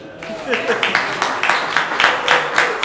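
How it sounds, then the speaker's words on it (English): A small audience at a cryptocurrency meetup gives a short round of applause, with claps coming in quick, fairly regular bursts close by for a few seconds. "Round of applause, ladies and gentlemen."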